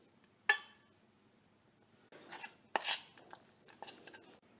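Melting chocolate and butter is stirred in a saucepan, with a spoon scraping and knocking sharply against the pan in a few sparse, close strokes separated by near silence.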